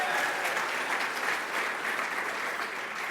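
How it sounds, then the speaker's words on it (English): Steady, dense applause from a dinner audience fills the whole stretch at an even level, a sustained wash of clapping hands with no voices standing out. "So let's give them a big round of applause as well."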